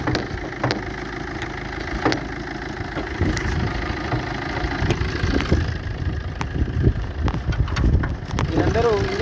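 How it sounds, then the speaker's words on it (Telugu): A 2016 Maruti Swift Dzire diesel car idling with its bonnet up, producing a steady low engine rumble while people talk over it. "మీరందరూ ఇంజన్ సప్పుడు కూడా వినొచ్చు"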